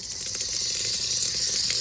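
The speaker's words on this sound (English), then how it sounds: "I'm just running water in it" Water runs steadily from a tap over a part of a STIHL BG56 handheld blower, a continuous close hiss and gush with no speech.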